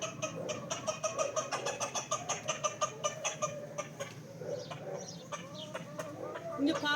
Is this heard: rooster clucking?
yes